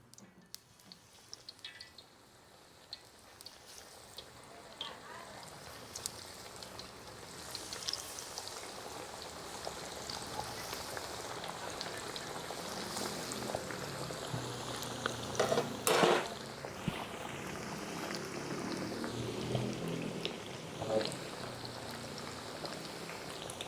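Fish pieces marinated for a quarter hour are slid into well-heated oil, giving a soft continuous sizzle and crackle that builds gradually, with scattered pops and a few sharper clinks, moderately quiet and without voices.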